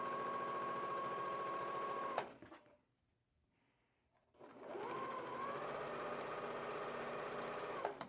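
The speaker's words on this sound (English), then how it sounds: "make sure you're just sewing on the other side of that diagonal" A sewing machine stitching 3-inch fabric squares along a diagonal runs in a steady, fast whirring hum for about two seconds, pauses in near silence, then runs again for several seconds before stopping, close and clear with no voices.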